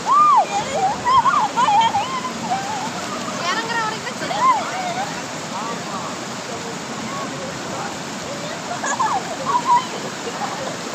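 River water rushes and splashes steadily as people bathe in a cold river, with voices of bathers and surrounding chatter mixed in throughout.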